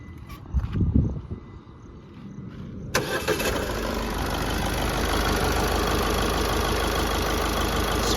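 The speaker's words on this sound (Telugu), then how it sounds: "ఒకసారి స్టార్ట్ చేయి." A 2016 Ford EcoSport with a push-button start cranks and fires up, preceded by a few muffled thumps and clicks, then settles into a loud, steady idle that runs for several seconds.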